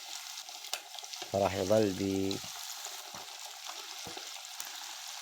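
Chicken pieces in hot oil in a frying pan give a continuous crackling sizzle, with a short spoken phrase briefly over it and faint clinks now and then.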